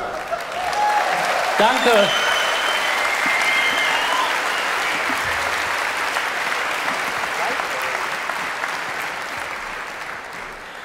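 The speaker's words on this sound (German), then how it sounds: "du hast einen schönen Applaus hier in der Philipshalle" A large crowd in the Philipshalle concert hall gives long, even applause after a concert, the dense clapping filling the room while a performer briefly speaks over it.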